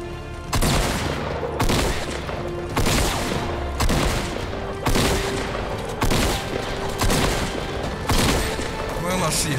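Rapid bursts of video game gunfire in a shooter with grenades, heavy repeated volleys about every second, loud and close with a steady battle din underneath.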